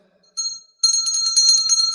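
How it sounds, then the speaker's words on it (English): A bright bell rings close by, one short strike followed by rapid continuous ringing that carries on to the end. "Ring the bell."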